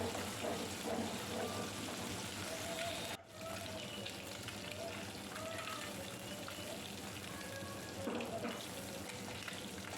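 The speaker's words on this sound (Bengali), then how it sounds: "আমার মাছগুলো ভাজা হয়ে গেছে, এবার আমি মাছগুলোকে তুলে নেব।" Kajoli fish fry in a pan with a steady, dense sizzle throughout, close and moderately quiet, with a short break partway and no speech.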